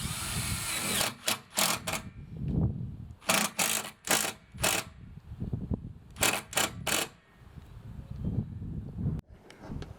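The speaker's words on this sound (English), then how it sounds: "So now we're just screwing the side of the panels to fix them." A power drill drives screws through the sides of solar panels into a mounting bracket on a Sprinter van conversion, in several short whirring bursts separated by quiet pauses, close up, with no talk.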